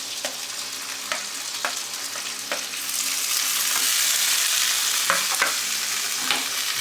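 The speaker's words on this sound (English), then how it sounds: "Saute this real quick because it's already cooked. Basically just heat it up with the butter." Already-cooked vegetables sautéed in butter in a hot pan, a steady close sizzle that swells louder midway, punctuated by brief scrapes and taps of a utensil stirring, with no talking.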